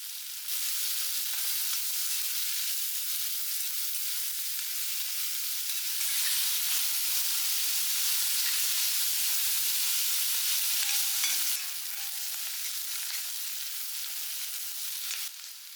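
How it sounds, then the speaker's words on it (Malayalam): Boiled eggs sautéing in hot coconut oil in a pan: continuous bright sizzling and crackling, fairly loud and close, with faint stirring knocks and no speech. "ഈ ചട്ടിയിൽ വെളിച്ചെണ്ണ വാർന്ന് അത് ചൂടായ ശേഷം ഇട്ട് വഴറ്റിയെടുക്കണം"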